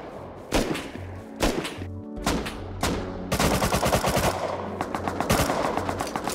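Rapid bursts of AK assault rifle fire in the survival game Rust, loud and close, with short volleys broken by brief gaps before a sustained stretch of automatic shooting.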